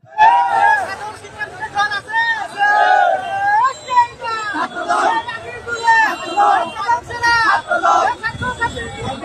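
Chhatra Dal members standing in two lines and chanting slogans, a loud continuous mass of shouted voices and crowd babble close by, rising and falling without a break.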